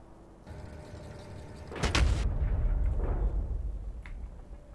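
An antimatter explosion in the game Factorio bursts with a sharp crack followed by a deep, rolling roar that lingers for a couple of seconds before fading, with no voices over it.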